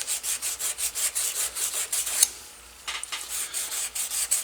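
Rhythmic back-and-forth hand sanding with 400 grit sandpaper on a pitted vintage cobbler hammer, close and scratchy in quick even strokes, with a short pause midway before the strokes resume.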